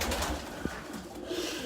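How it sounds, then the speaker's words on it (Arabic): Racing pigeons coo softly in a loft, a low steady burble heard close with no talk. "هاي طيور السباق"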